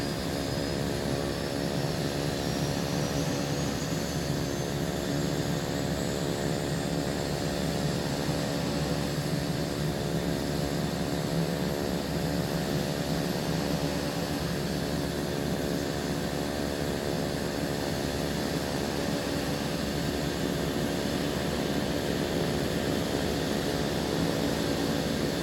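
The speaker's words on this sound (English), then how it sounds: "So we gotta be quiet during that just because I can't talk over the engine." Aircraft engine running loudly at high power during a fly-in expo, a steady dense roar with droning harmonic tones that holds evenly throughout, close and unbroken, with no talking.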